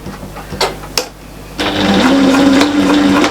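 Sewing machine stitching fabric for a storage caddy: a couple of brief clicks and taps, then a steady whirring motor run with a clear hum for the final couple of seconds, close and loud.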